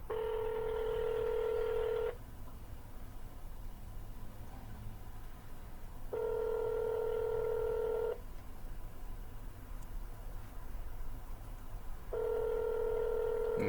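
Three separate bursts of telephone touch tones sound over a phone line, each about two seconds long and spaced several seconds apart, with quiet line hiss in between.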